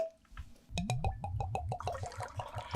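Still Austin rye whiskey being poured into a barrel: after a quiet start, a close run of quick, rhythmic glugging splashes follows, blending into a continuous liquid gurgle.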